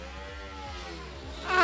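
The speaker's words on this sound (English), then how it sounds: "This car is so loud" A Formula Student race car at an autocross event pulls away from the start, its buzzing engine tone holding steady and then climbing sharply and growing louder at the end.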